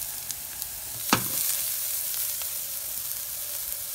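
Carrots and onion frying in oil in a pan for a vegan mushroom soup, a steady close sizzle with a brief clatter of stirring near the start, no voices.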